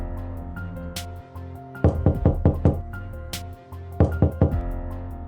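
Knocking on a door: two loud bursts of several sharp raps each, close and distinct, set against a sustained tonal background of dramatic music, with no talk.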